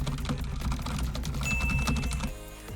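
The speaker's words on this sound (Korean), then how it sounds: "마이크와 키보드를 같은 책상에 놓고 타이핑을 해보면 아마 키보드에 진동 소리가 엄청나게 많이" Typing on a keyboard that sits on the same desk as a Blue Yeti condenser microphone, a fast steady clatter of close key clicks carrying desk vibration, alone without talk.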